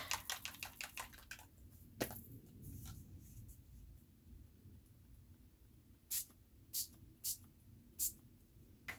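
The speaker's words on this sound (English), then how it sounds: "I'm going to spray some of those pearls on it and see what it looks like." Short hissing bursts of pearl pigment aerosol spray, a single puff followed by several quick sprays in a row, close up against a quiet, low background hum.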